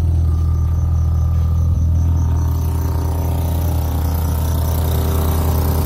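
A Mitsubishi 4G15 turbo engine idles high with the idle control valve off, a loud, steady, droning hum running unbroken and close throughout, with no voices.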